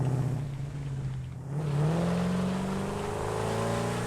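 A vehicle driving in the factory-building game Satisfactory, its engine humming steadily and rising in pitch as it accelerates, close and continuous with no talk.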